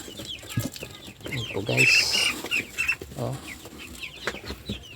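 Farm chickens about 45 days old cluck and squawk close by in a poultry setting, a dense chorus of clucks with a louder burst of calls midway, while someone talks over them.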